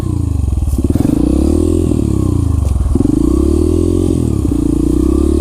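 A 2003 dirt bike engine idles with a loud, rattling throb and rises in short revving surges, close by, with no voices.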